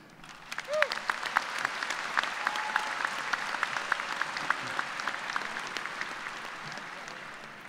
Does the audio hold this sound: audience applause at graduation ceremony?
yes